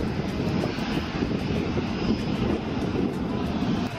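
A jet airliner takes off at Manchester Airport with a steady, loud roar and whine of engines at power, heard from the airport grounds nearby and lasting the full four seconds, with no talk.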